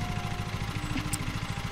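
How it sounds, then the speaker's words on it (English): Lawn mower engine in the Lawn Mowing Simulator game, a steady low pulsing chug that holds evenly throughout, like an idling small engine turning over and running, with no talk over it. "So to turn on the lawnmower, you just hold down X and it will take its time."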